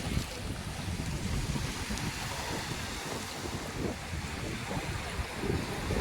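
Fishing trawler at the Digha river mouth (mohana), Old Digha: a broad, steady rumble of boat engine and water with wind buffeting the microphone, continuous and moderately loud, no clear talk.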